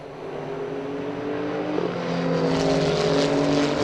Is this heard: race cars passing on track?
yes